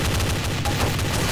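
A gunshot in Counter-Strike: Source on the CS_Office hostage rescue map, heard amid a dense, loud wash of game noise with a sharp crack partway through.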